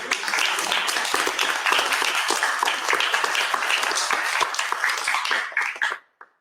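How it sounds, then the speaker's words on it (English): Applause from a poetry gathering audience, individual claps clearly distinct in a lively, uneven patter that carries on for about six seconds before tapering off and stopping. "Can we have another round of applause for all of you?"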